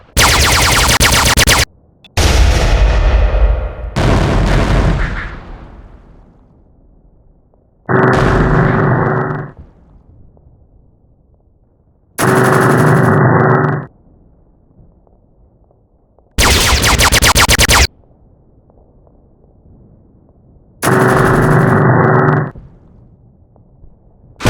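Loud bursts of gunfire and booming artillery fire from a stop-motion battle come in separate heavy blasts, some trailing off in echoing decay, with brief silences between them.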